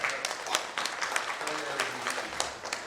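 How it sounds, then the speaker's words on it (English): A conference audience at a learning and development summit applauds to welcome a volunteer participant, steady scattered clapping from a moderately sized crowd with a faint voice underneath. "Can we welcome him with big round of applause?"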